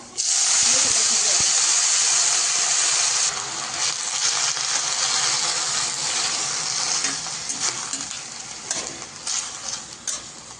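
Green chillies dropped into hot oil with fried garlic, giving a loud, bright sizzle that starts strong, then settles into a steady crackling hiss with small pops while frying continues.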